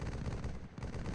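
Machine gun fire in a multiplayer military shooter game, a rapid dense burst of loud shots rattling continuously with a brief dip in the middle.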